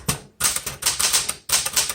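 Typing on a 1972 Smith Corona Classic 12 manual typewriter, loud close keystrokes in a steady quick rhythm of sharp metallic strikes, with a short pause between bursts.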